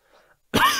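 A single harsh cough bursts out near the microphone after a moment of near silence, from a commentator coughing during an excited political talk.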